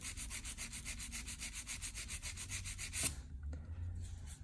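A hand file rubs across a fingernail in quick, even back-and-forth strokes, close and soft, then breaks off after about three seconds into near quiet.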